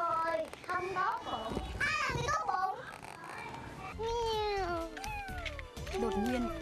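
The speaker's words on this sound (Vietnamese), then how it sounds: "Đột nhiên, chú mèo con đi lạc lúc trước lại xuất hiện." A kitten meows repeatedly in rising, whining cries, loud and close, with a voice and background chatter mixed in throughout.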